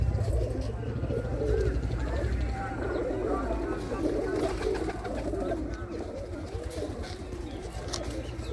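Pigeons belonging to Lambu of Mahmoodpur coo steadily in a loft with caged young birds, a dense layered murmur of many birds close by, with a voice talking intermittently over them.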